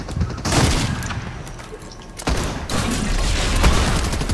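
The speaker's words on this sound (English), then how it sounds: "God damn, you're shooting me!" Rapid gunfire in the video game Fortnite, heard as loud, dense bursts of shots with a brief gap before the firing resumes and continues to the end.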